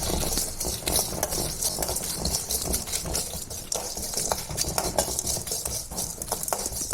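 Whole spices dry-roasting on low heat in a pan for beef biryani masala, with a steady dense scraping and rattling of a utensil stirring against the metal throughout, fairly close, no talk.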